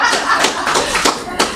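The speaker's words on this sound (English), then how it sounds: "give me a round of applause," Audience applause for a presenter at the 2019 TVET in the Caribbean conference session, a steady clatter of many hands clapping together across the whole stretch, dense and fairly loud with a few sharper claps standing out.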